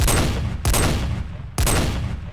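Gunfire in the Minecraft MineZ game, three loud sharp bursts roughly a second apart, each with a hard attack and a dense decaying tail, with no talk over them.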